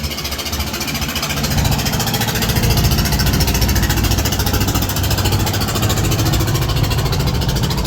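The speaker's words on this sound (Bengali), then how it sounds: "এটা সম্ভবত ইটভাটার ট্রলার হবে" A loud trawler boat's diesel engine chugs steadily nearby, a rough rhythmic throb that grows slightly louder and holds constant.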